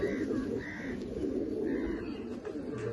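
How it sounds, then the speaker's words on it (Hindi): Khatang pigeons coo softly in low, rolling murmurs, several birds close by, with faint chirps and a steady busy background. "ये देखिए असली खतंग कबूतर"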